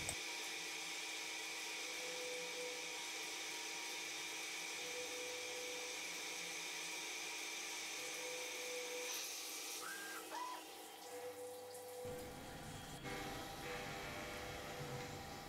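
A metal lathe takes semi-finishing and finishing cuts on a square shaft being repaired, giving a steady whining hum with faint tonal squeaks partway through before the motor tone shifts near the end.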